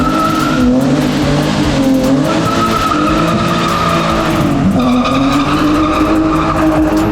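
A modified BMW does a burnout, its tires spinning and squealing loud and close in a long, continuous shriek over a roaring, revving engine.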